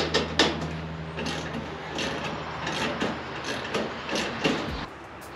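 A ratchet wrench tightens bolts on a GroundWork steel garden utility cart, close repeated mechanical clicking strokes over a steady background hum.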